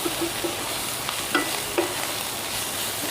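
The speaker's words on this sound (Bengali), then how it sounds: "মশলাটা একটু কষা কষা হয়ে এলে দেখুন দেখা যাচ্ছে খুব সামান্যই তেল দিয়েছি" Spice paste frying down in a pan with very little oil before boiled papaya goes in, a dense steady sizzle with a few light spatula scrapes and taps, close with no speech.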